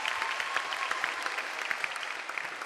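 An audience at an evening pageant event applauds, a steady close wash of many hands clapping without a break and no speech over it.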